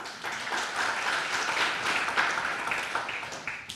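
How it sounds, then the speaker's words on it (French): An outdoor audience at an autocross meeting in Badefols-d'Ans applauds a named guest, a steady round of clapping lasting several seconds with faint voices underneath. "Monsieur Nicolas Harel, on peut l'applaudir."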